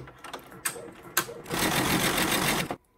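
An embroidery machine starts with a few mechanical clicks and thumps, then runs in a steady, close, buzzing stitching burst for about a second before stopping.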